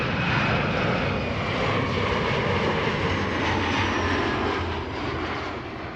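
A KLM airliner on Flight 1088 from Cardiff lands at Amsterdam Schiphol, its engine roar loud and close, sustained and rushing, then easing slightly near the end.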